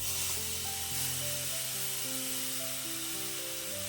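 Tomatoes hit a hot pan for a Kerala egg curry and sizzle loudly and steadily from start to finish, with faint tonal music in the background.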